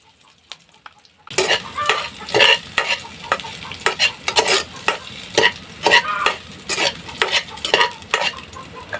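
Onion and garlic sizzling in a hot pan while a utensil stirs and scrapes them in repeated bursts, starting after a quiet opening second and staying loud and close.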